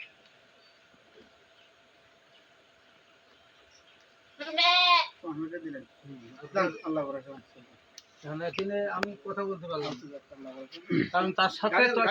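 Garole sheep at a farm in Aria village, Darshana, Chuadanga bleat in several loud, wavering calls at close range after a quiet start, with people talking between the calls.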